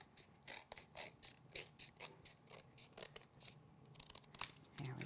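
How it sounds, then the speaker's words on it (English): Scissors snip close up, trimming excess craft card in a winter paper scene, giving a run of quick, crisp cuts with short pauses between, quiet and alone. "with our scissors, we'll just trim away the extra bit that shows."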